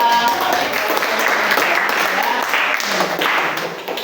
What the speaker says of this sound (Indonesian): beri aplaus dulu kepada